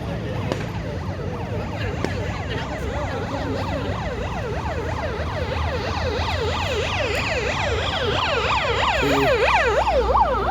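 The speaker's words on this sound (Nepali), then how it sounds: "एम्बुलेन्स आयो" An ambulance siren wails loudly and continuously, cycling through rapid rising and falling tones over a steady rumble of road traffic in Nepal.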